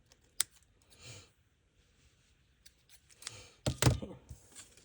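Scissors snipping off excess ruffle fabric pieces during a craft project, several crisp close cuts spread across the moment, with a quiet pause between bursts.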